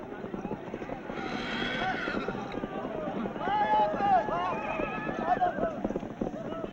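Horses in an Afghan buzkashi match, whinnying and hooves pounding across the field amid crowd noise and wind, with a voice talking over the action.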